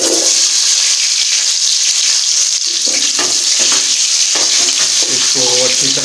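Chopped onions fry in a cup of ghee in a cooking pot, a loud continuous hiss and sizzle close up, with stirring clatter and scraping noises toward the end.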